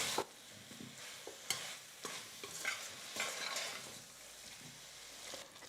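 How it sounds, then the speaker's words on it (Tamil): Mushrooms stirred and sautéed with masala in a pan, a steady close sizzle broken by repeated scrapes and clinks of a spoon against the pan, with no voices. "காளானையும் சேர்த்துட்டு நம்ம மிக்ஸ் பண்ணிக்கலாம். ஒரு 2 நிமிஷத்துக்கு நல்லா வதக்கிக்கலாம்."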